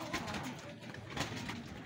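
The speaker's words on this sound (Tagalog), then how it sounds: "Ayan, nagrambola na yung kalapati." Young racing pigeons scramble in a loft, with soft cooing and a busy flutter of wings through a brief, faint stretch.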